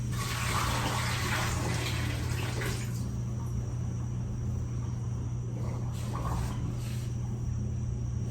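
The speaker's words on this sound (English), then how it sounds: "So first thing I'm gonna do is dump my water out." Water is dumped from a Berkey water filter tank, pouring and splashing steadily for a few seconds, then easing to a softer trickle over a constant low hum.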